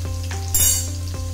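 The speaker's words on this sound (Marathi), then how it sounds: "मोहरी जिरे घातल्यानंतर मी त्यात कांदा आणि टमाटर घालते. कांद्याला छान परतून घेणार." Onion and tomato frying in oil with mustard seeds and cumin for Maharashtrian pithla, a brief close sizzle over a low steady hum, with a few light spoon taps and one brighter burst of spitting midway.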